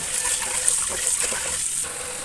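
Glutinous rice is rinsed under a steady stream of running water, a continuous close splashing gush with no speech.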